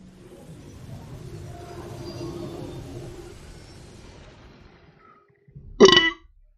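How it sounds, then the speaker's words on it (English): A single short, loud burp after drinking coffee erupts near the end, following several seconds of faint low background noise. "Weird coffee burps every fucking time."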